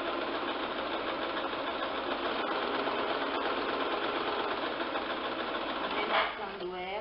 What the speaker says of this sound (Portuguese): E aqui eu faço uma costura.